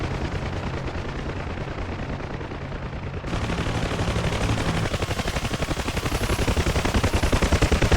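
Rapid machine-gun fire from a ground convoy rattles toward an aircraft in the DCS flight simulator, a dense continuous stream of shots that grows louder and harsher over steady engine noise.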